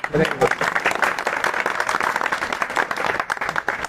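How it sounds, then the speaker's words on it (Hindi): A crowd claps steadily in sustained applause, fairly close and continuous throughout, with some voices mixed in underneath. "तो आप लोग ताली बजाइए।"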